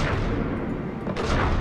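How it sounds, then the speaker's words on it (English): Explosions and gunfire in the video game Mass Effect 3, during the escape from Grissom Academy, form a dense continuous rumble with a louder burst near the end. "Oh, look at that explosion!"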